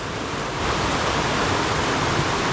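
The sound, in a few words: waterfalls on Cuffs Run stream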